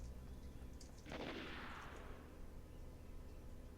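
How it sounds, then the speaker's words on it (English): Gunfire in the video game Last Man Standing: a single burst of distant shots rolls out and fades, over a low steady background hum, with no talk. "I hear an awful lot of gunfire."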